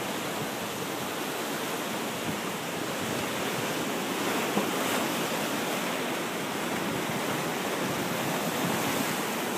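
Ocean waves break steadily on a rocky Big Island of Hawaii shoreline, a loud, continuous roar of surf and spray that stays close and unbroken from start to finish.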